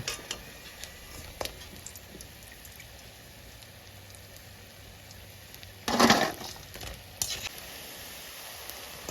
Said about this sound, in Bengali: এরকম করেই হালকা আছে সুন্দর করে ভাজতে হবে